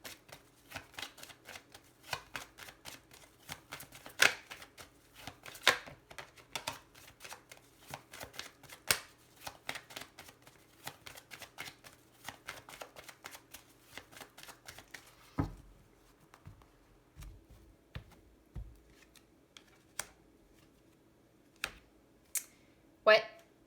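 Lenormand cards shuffled in quick, crisp riffling bursts for about fifteen seconds, close and fairly quiet, followed by scattered single card snaps and taps as they are laid down.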